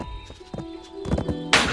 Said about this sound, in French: Bon, je vais chercher mon cheval.